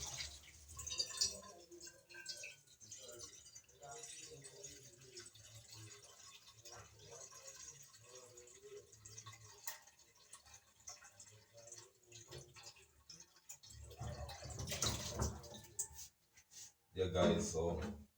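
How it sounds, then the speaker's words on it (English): Tap water runs into a cooking pot being filled for boiling macaroni, a faint uneven trickle and splash that swells to louder gushes near the end, with quiet kitchen handling throughout. "I'm gonna get some water in my pot"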